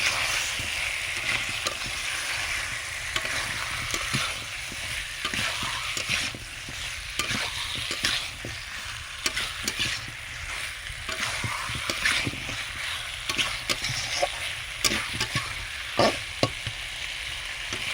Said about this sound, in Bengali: এর মধ্যে ধুয়ে রাখা আলুগুলো দিয়ে দেবো ভালোভাবে এভাবে কষাতে রাখবো